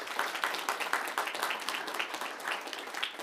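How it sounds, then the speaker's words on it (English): An audience at a school board meeting claps for an award given to a lead custodian at an elementary school, a steady, moderately distant patter of many hands sustained throughout with no talking. "If you'll give her a big round of applause."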